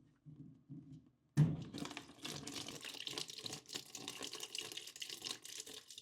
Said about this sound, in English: Keep a container ready to catch any dripping water.